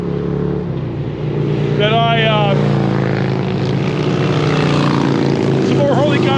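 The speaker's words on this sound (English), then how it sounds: "some more Harley guys riding by waving" Harley motorcycles riding past a Can-Am Spyder on a California highway ride, a loud steady engine roar with a deep rumble and wind noise, and a brief voice speaking.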